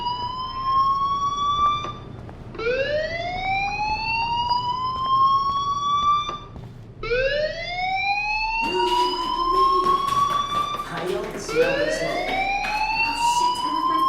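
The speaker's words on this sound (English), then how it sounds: "Hey, do you hear that fire alarm?" A fire alarm sounds in the video game Life is Strange, a loud, repeating rising electronic wail that cycles several times, close and alone, with no voices.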